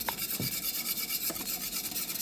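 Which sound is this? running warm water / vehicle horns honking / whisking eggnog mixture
whisking eggnog mixture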